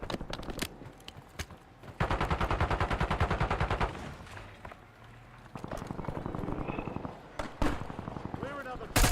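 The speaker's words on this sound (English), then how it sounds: "That's some shaky shooting." Bursts of rapid automatic gunfire from a shooter video game, loud sustained volleys around two and six seconds with sharp single shots between, with someone talking over the action.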